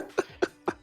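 A voice mimics a cough in three short, evenly spaced bursts, close and fairly loud, acting out a character coughing during a tabletop roleplaying game.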